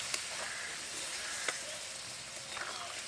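A quiet sizzle and hiss as water goes into a hot pan of spiced jackfruit and potato, soft bubbling with a few faint clinks, low and close.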